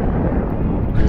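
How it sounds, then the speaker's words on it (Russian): Wind blows steadily from the shore across the open sea, a loud, continuous rush buffeting the microphone on a stand-up paddleboard, with no talk over it. "Вот чувствуется ветер с берега пришел."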